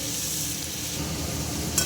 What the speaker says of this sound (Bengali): তেলে দিয়ে দিলাম চিংড়ি মাছ। চিংড়ি মাছগুলো হালকা করে ভেজে নেব